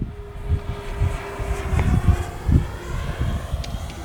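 A Black Horse Heinkel He-111 twin-engine RC model airplane with a 1750 mm wingspan flies in gusty wind, its steady engine drone carried under heavy wind buffeting on the microphone, moderately loud and continuous.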